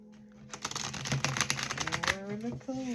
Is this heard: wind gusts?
no